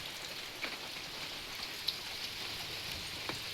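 Heavy rain falls steadily outside a village home during a power cut, a soft, even hiss throughout with a few faint drop ticks and no voices.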